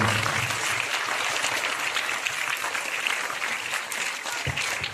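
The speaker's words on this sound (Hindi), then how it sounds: "वसीम सर साहब के लिए बहुत तालियां बजाएंगे।" An audience at PM Shri NP Urdu School in Buldana applauds a presenter, a dense, sustained clapping from many hands that stays loud and even throughout.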